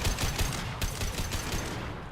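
Submachine gun fire in Mass Effect 2 Legendary Edition rattles in rapid, evenly spaced bursts, a dense crackling fusillade at moderate loudness with no talk over it.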